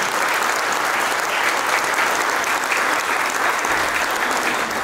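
A church congregation at the first holy liturgy of an Armenian church in Glendale breaks into sustained, dense applause filling the hall at full strength for the whole stretch, with no voices standing out.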